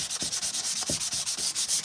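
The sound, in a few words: sanding a custom Mandalorian armor build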